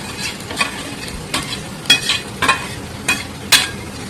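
Boiled potatoes are stirred into fried onions in a hot pan for puri samosa filling, with sharp scraping stir strokes every half second or so over a soft, steady sizzle.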